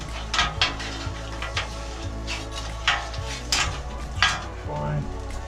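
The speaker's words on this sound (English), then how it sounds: "Go ahead and spread this oil around a little bit." Oil being spread across a hot griddle for monster kabobs, with metal utensil scrapes and clinks over a steady low sizzle, several sharp scraping strokes spaced through the stretch.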